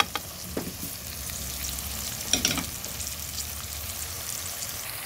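Carrot and onion sizzle and fry in a pan for jalapeño escabeche, with a steady hiss throughout and a few sharp stirring scrapes, the loudest just past the midpoint; no talking.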